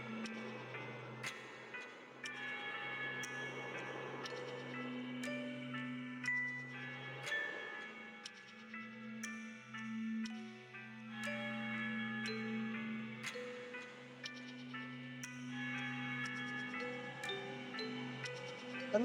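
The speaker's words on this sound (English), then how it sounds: "I love the bells playing as we get this montage too" Chiming bells ring out in the ending montage music of the Super Paper Mario video game, bright struck tones sounding in a lilting rhythm over sustained low notes, gentle and clear throughout.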